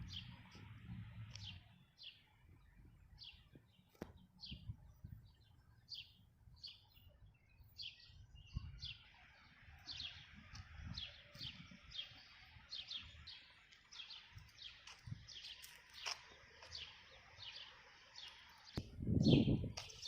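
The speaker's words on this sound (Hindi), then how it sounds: "इतना शांत वातावरण है कि आप पक्षियों के चहचहाने की आवाज़ भी सुन सकते हो।" Birds chirp and tweet in a quiet garden at the Mark Twain House, short bright calls scattered steadily throughout, fairly faint and near, with a brief low thump near the end.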